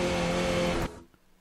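Skip Barber race car in iRacing at full throttle in fourth gear at Oran Park, a loud, steady engine roar with a strong harmonic hum that cuts off abruptly near the end, leaving only faint residue.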